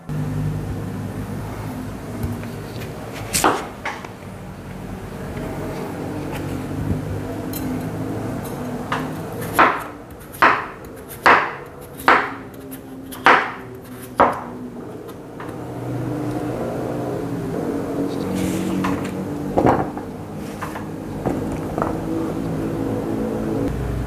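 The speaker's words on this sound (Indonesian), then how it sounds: "Sekarang kita potong-potong." Peeled, washed potatoes being cut into pieces with a knife on a board, a run of about six sharp, evenly spaced chops in the middle plus a few isolated cuts, close and clear over a low background hum.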